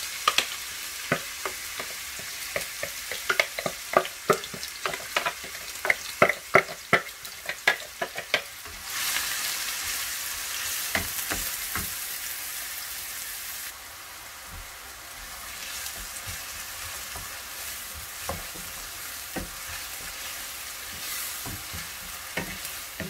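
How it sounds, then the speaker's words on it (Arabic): Chopped onion goes into hot oil and fries with a loud, steady sizzle, joined early on by repeated sharp scraping and clattering strokes of stirring. The clattering fades and a continuous crackling hiss carries on alone. "غادي نخلي الزيت غادي تسخن ليا باش غادي نرمي فيها البصلة"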